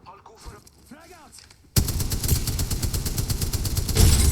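Rapid automatic gunfire in a shooter video game bursts in loudly after a quiet stretch of synthetic game tones, a dense continuous rattle of shots that swells near the end.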